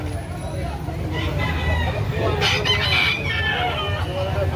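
Rooster crowing rises over a busy crowd of voices and steady background hubbub at a rooster market in Carbon, Cebu City, with several fowl calls overlapping.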